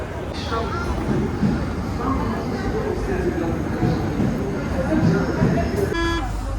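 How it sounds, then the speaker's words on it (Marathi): Airport train heading into Paris: a continuous low rumble and rolling rail noise throughout, with a faint horn-like tone late on. "आता आम्ही एअरपोर्टवरनं ट्रेन पकडली आहे डायरेक्ट पॅरिसला"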